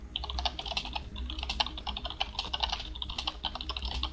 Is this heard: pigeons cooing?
no